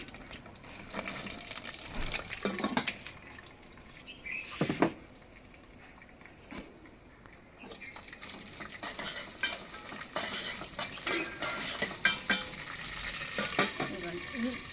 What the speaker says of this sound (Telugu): రెండు చక్కగా వేగుతూ ఉంటాయి